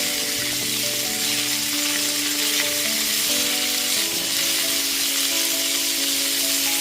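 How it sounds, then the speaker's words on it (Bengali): Winter vegetables for a Bengali mixed vegetable curry fry in a pan over a medium gas flame. A loud, continuous sizzle hisses up close, with a steady tonal hum underneath. "গ্যাসের ফ্লেমটা মিডিয়ামে রেখে একটু সময় নিয়ে সবজিগুলোকে আগে ভেজে নিচ্ছি"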